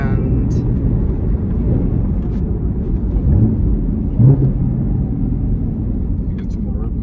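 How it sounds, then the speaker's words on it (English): A 2024 Camaro ZL1 Collector Edition engine blips briefly in a rev-matched downshift over a steady cabin rumble, heard from inside the car while people talk over it. "you got some more rev match right there"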